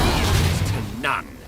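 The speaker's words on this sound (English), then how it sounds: "Use Fire Breath." A fiery breath attack in Divinity: Original Sin 2 gives a broad, roaring whoosh that fades, followed by a short bright flare of sound.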